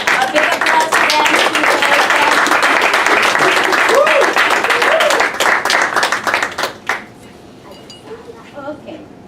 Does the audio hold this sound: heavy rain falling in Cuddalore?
no